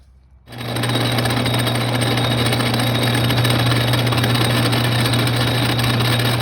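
A 5/16 bolt being machined down to strip its threads for a log splitter control handle pin: a loud, steady mechanical drone with a low hum, starting abruptly and running on unbroken at close range.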